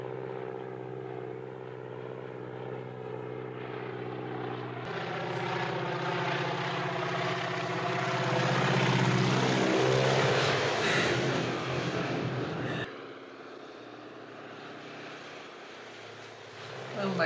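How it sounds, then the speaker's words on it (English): A crop-dusting propeller plane in the 1959 film North by Northwest drones steadily overhead, its engine swelling louder mid-way and then easing off, with people talking over it. "That plane's dusting crops where there ain't no crops."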